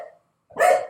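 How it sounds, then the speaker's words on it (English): A single dog bark, fairly close and loud, stands alone after a brief silence. "Sorry about the barking."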